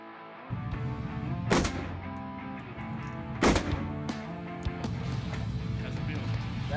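Two loud, sharp gunshots crack out about two seconds apart at an indoor shooting range, over a constant background hum and the murmur of people talking.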